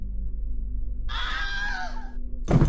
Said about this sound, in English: And then she Wilhelm screams.